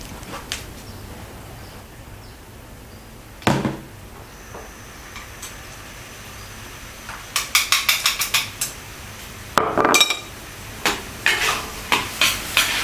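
A spatula scrapes and clacks against a wok as mushrooms are stirred through stir-fry sauce, with a faint sizzle underneath and bursts of quick rhythmic metal knocks, loud and close.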